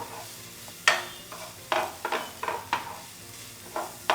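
Chopped onion sautés in a pan for pasta with a faint, low sizzle, broken by several sharp scrapes and knocks of a stirring spoon against the pan. No one speaks.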